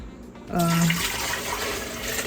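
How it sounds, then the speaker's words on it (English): Water splashes and pours steadily into a blender of blended tiger nuts, starting after a brief quiet moment and continuing as an even rushing sound. "Add some water inside the blender"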